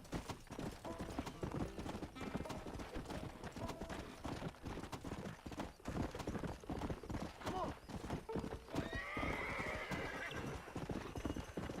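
Galloping horse hooves clip-clop rapidly and steadily in the Western video game Red Dead Redemption, with a whinnying neigh near the end, over ambient game sounds.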